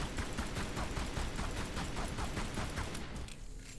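Sustained rapid gunfire pours a full magazine into a creature in Tomb Raider Anniversary, a dense, loud burst of shots running steadily for several seconds before cutting off near the end, with no talking over it.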